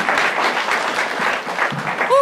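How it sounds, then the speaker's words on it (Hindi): Audience applause for a guest at a comedy show: a dense burst of hand clapping at steady strength, briefly trailing into a voice at the end. "एक बार जोरदार तालियां राजीव के लिए"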